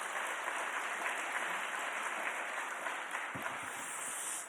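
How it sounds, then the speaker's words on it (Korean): A church congregation applauds to welcome the guest pastor from Jain Church at a Sunday afternoon praise service, the clapping a dense, steady wash of many hands that fills the room and continues without pause. "큰 박수로 환영하겠습니다"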